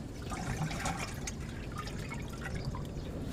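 Water pours from a watering can onto vegetable plants on an early morning, a continuous splashing, pattering stream heard close up with small drips, steady throughout with no talking.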